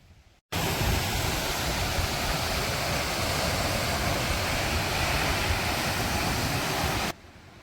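Water pouring down from Pechiparai Dam in Kanyakumari district, Tamil Nadu: a loud, steady broadband rush of falling water that starts abruptly and holds evenly for about six and a half seconds before cutting off.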